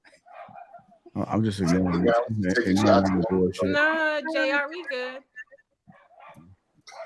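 A dog at the beach lets out high, wavering whimpers and yips after and alongside people talking loudly nearby.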